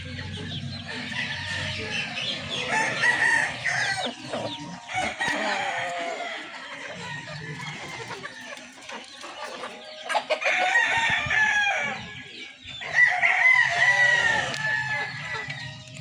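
Gamefowl roosters, a lemon cross among them, crow repeatedly and cluck nearby at a farm, loud and layered with several birds overlapping across the stretch.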